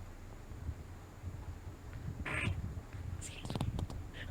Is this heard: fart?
yes